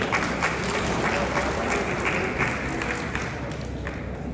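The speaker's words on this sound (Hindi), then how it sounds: "इन सबके लिए ताली।" An audience claps steadily through a gathering where Hindi is spoken, a dense, fairly loud wash of applause with some voices mixed in, holding for several seconds and easing slightly toward the end.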